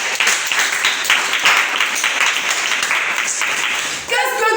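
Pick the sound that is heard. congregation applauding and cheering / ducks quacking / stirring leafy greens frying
congregation applauding and cheering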